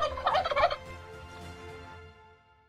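A turkey gobbles in a short, loud burst of rapid warbling calls near the start, followed by quieter trailing clucks, heard alone without talk.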